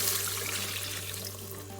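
Chicken broth poured into an Instant Pot pressure cooker, a steady close liquid rush and splash with no pauses, loud and continuous.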